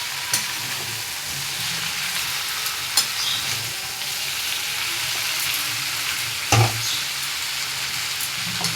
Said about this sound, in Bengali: সামান্য একটু নুন দিয়ে দিলাম, দিয়ে আমি নাড়াচাড়া করে নেব